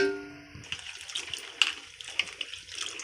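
Water is poured into a cooking pot for ridge gourd dal, with splashing, gurgling pours and a few sharper drips at close range in a quiet kitchen, no talking.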